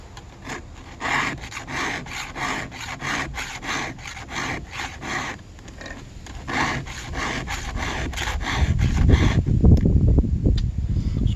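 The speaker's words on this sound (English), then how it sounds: "I'm filing these until it cleans up across the top." Hand file on the teeth of a chainsaw rip chain, a run of rhythmic rasping strokes, close and fairly loud, each stroke a short scratchy burst, with a heavier rough rubbing noise rising near the end.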